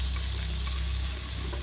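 Kingfish, also called seer fish, frying in a pan: a steady close hiss and crackle of hot oil, continuous and even, with no voices.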